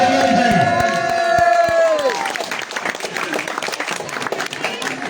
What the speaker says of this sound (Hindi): आ जाए जी यार तालियां बजा दो यार।